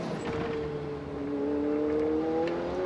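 On-board sound from a Ferrari Challenge race car at Le Castellet, the engine note rising steadily as it pulls through the gears, loud and close with a constant rushing background.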